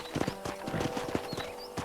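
Horse hooves clip-clopping in the video game Red Dead Redemption, a quick, even run of close, crisp hoofbeats at a trotting pace, moderately quiet and without speech.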